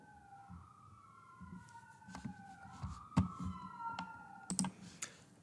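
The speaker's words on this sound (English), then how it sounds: "Apologize for the sirens in the background." A wailing emergency siren from a nearby hospital rises and falls in the background, faint and distant, with scattered sharp clicks and taps close by.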